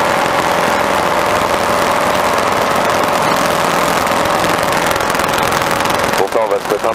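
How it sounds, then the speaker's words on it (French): A Robin DR400 light aircraft engine, throttled back in flight, hums loudly and continuously with a fixed tone, while a voice talks over it. "on ralentit la puissance du moteur"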